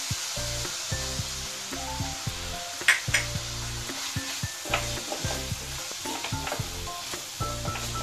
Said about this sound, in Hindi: इसे 1 मिनट तक भून लेंगे